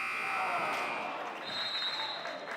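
A basketball playoff game-ending buzzer between the Cameron Comets and Grantsburg Pirates sounds as a sustained electronic tone over loud gym crowd noise, with an announcer talking.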